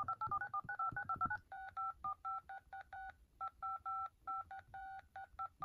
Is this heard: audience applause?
no